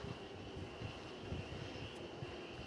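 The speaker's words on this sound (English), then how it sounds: "I don't even know if we're going to be able to tell that it's a JetBlue aircraft." A JetBlue jet airliner passing overhead at night at DFW Airport, a faint, steady broadband engine roar heard from a distance.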